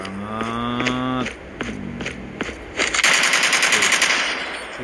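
Rapid automatic gunfire from an upgraded weapon in a mobile shooter game, played on a Samsung Galaxy S20 Ultra: a loud, sharp stream of repeated shots building into a sustained burst, with no talking.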